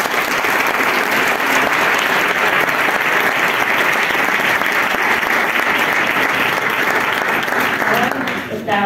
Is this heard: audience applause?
yes